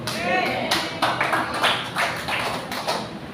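Audience at a healing message service clapping in bursts of sharp, close taps, irregular and uneven, with voices talking over the claps throughout.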